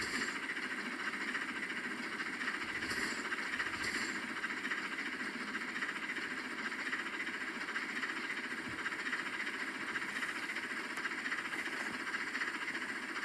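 A steam locomotive climbs a 1.5% grade, giving a steady loud rumbling roar with continuous rail and machinery noise and a few faint knocks, sustained and even throughout.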